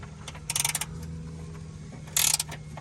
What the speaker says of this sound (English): I have the 14 on there, and I have a 19. It's a little trick to get more leverage. And we're just gonna crack that bolt loose.